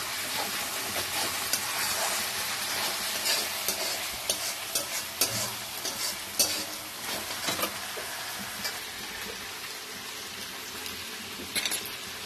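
Bhola fish frying in a pan as it is stirred about, a continuous close sizzle with frequent scraping and clattering strokes of the utensil that thin out toward the end.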